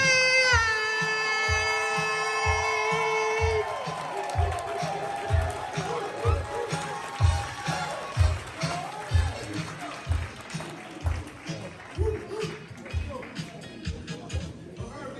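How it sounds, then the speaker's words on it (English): Audience at an honoring ceremony rising to clap and cheer, beginning under a sustained musical tone and settling into rhythmic, pulsing applause with shouts; a voice carries over parts of it. "Get on your feet, start clapping right now."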